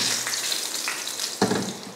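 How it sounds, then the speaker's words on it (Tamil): Cinnamon, cloves, cardamom and curry leaves spluttering in hot oil, a steady close sizzle with a brief sharper crackle burst partway through, no voices. "நல்லா பட்டை கிராம்பு பொரிஞ்சதுக்கப்புறமா கொஞ்சம் கருவேப்பிலை"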